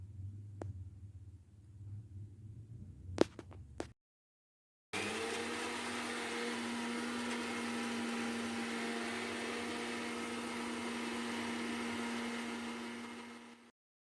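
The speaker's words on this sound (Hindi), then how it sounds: "अब किसी भी मिक्सर में इसको डाल के बारीक पीस लेंगे हम।" A kitchen mixer grinder grinds sun-dried raw mango pieces into fine powder for aamchoor. After a few clicks and a brief silence, the motor starts and holds a steady, loud whirring hum for about nine seconds before stopping.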